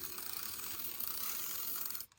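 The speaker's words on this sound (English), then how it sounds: "I'm going to use my tape runner. This is a Tombow." Tombow tape runner dragged across slick paper, giving a faint, steady ratcheting clicking whir for about two seconds before stopping abruptly, close up and quiet.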